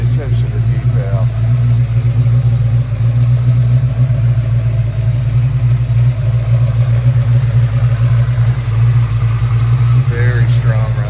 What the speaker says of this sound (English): Very strong running truck.